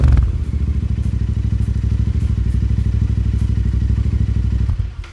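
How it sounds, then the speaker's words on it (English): Royal Enfield Continental GT 650cc motorcycle engine idling loud and close, a steady throbbing thump that cuts off abruptly near the end. "I've got a gorgeous Royal Enfield Continental GT, 650cc."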